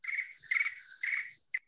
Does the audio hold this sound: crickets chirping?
yes